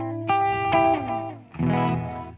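Electric guitar notes ring through a Space Force reverb pedal set to its Magneto delay-reverb sound, with plucked tones sustaining and bending into a dense, smeared wash of repeats.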